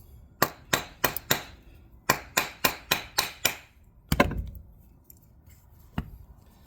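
A run of sharp, ringing nylon hammer taps on the plunger of a Graco GMAX II 3900 paint sprayer pump, five quick strikes, a pause, then six more, followed by a duller knock and one last tap.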